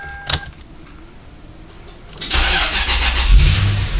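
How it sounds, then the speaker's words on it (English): A Lexus LS430 with a newly replaced fuel pump is started: keys jangle, then the engine cranks briefly, catches and settles into a steady close idle. "So I'm gonna go ahead and try to start the car now."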